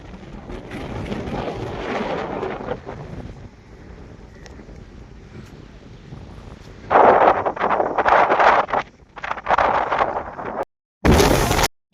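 Strong wind blows outdoors, roaring against the microphone in uneven gusts that swell louder in the second half before a brief dropout and a final burst.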